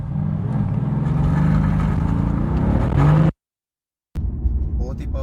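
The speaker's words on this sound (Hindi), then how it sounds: "ड्राइव पे चलते हैं इसकी और इसके इंजन की पावर का मज़ा लेते हैं" A Mercedes-Benz AMG GT-S engine drones loud and steady with a rising, accelerating note, then cuts to a short silence before the engine sound returns.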